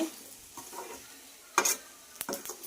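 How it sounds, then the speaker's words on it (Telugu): A spoon scrapes and stirs chicken pachadi in a pan after chili powder goes in, with a low sizzle beneath and a few sharper clinks and scrapes of metal on the pan near the end. "ఇప్పుడైతే తిప్పుతుంది కారం అది వేసి"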